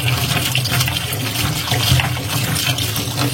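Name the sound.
water running while washing vegetables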